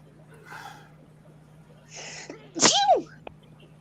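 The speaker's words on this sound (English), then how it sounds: "That was a sneeze." A single loud, sharp human sneeze bursts out near the microphone after a couple of soft breaths, standing clear above a low steady hum.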